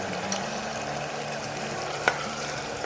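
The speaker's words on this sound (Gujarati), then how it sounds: "સરસથી આપણે તેલમાં ડુંગળી ઉમેરી દીધી છે" Onion fries in hot oil for sev usal, a continuous dense sizzle and crackle close by with a single brief clink near the end.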